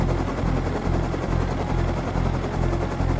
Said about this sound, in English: You stole my helicopter!